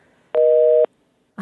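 One loud, steady telephone busy-signal tone after a call disconnects. It sounds alone for about half a second against near silence, with a short unrelated noise at the very end.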